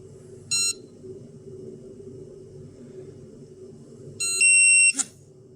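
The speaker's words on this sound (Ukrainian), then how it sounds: "таку він помилку видає, коли немає взагалі блоку детектування" An Atom-scan radiation dosimeter with no detector unit connected gives an error signal: a short high electronic beep, then after a pause a longer two-stage tone ending in a sharp click, over a steady low hum.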